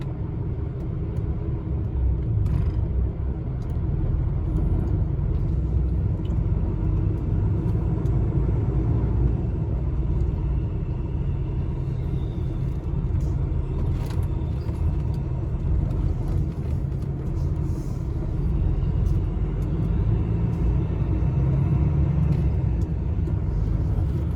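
A lorry pulls away from Reading motorway services, its engine a deep, steady rumble heard from inside the cab, loud and continuous with faint rattles and no talking.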